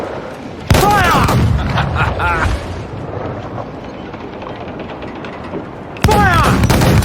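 Two thunderous broadside volleys from ship cannons in Assassin's Creed IV Black Flag, loud and close, each with whistling descending shot, separated by several seconds of rumbling sea-battle ambience.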